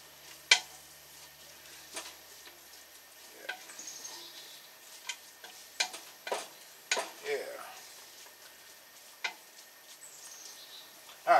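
A spoon stirring sauerkraut soup ingredients in a pot, giving scattered scraping clicks and soft taps against the metal, quiet and intermittent over a low hiss.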